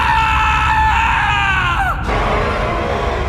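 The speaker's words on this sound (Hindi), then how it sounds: "जो उस कंडक्टर ने देखा तो डर से उसकी चीखें निकल गई" A loud, drawn-out scream of terror cuts through a dense, rumbling horror soundscape, then breaks off suddenly into a heavy, noisy ambient roar.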